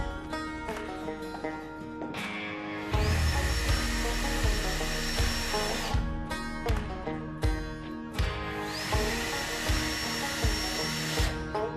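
A power screwdriver drives screws into the side of a wooden herb planter box, giving two sustained high whines with a short burst between them and intermittent knocks of wood and handling nearby, with background music throughout.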